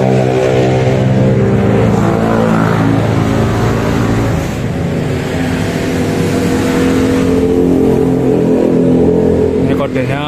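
A 2021 Honda New Scoopy scooter engine runs steadily at close range, a loud continuous idle hum with a few slight shifts in pitch.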